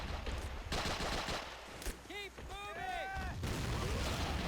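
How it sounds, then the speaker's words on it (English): Anti-tank guns fire shells in a real-time strategy game, sharp repeated reports amid dense battle noise, with whistling tonal game effects in the middle and a voice talking throughout. "So the AT gun's unleashing some AT shells here."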